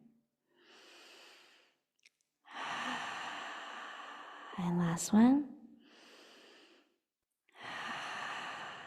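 Deep, slow breaths during a family stretch class, inhales and exhales coming in separate bursts with short pauses between, a soft voice speaking briefly in the middle.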